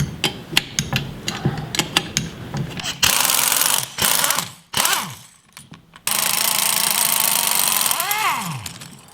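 Metal tool work on car coil spring clamps with a wrench: close, loud ratcheting and clanking bursts with harsh broadband grinding stretches, a brief voice partway through, then a long sustained rasping section.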